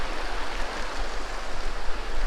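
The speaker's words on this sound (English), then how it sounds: "a little bit of a waterfall" Steady broadband rush of falling water from a small waterfall in Zion National Park, continuous and fairly close with no voices.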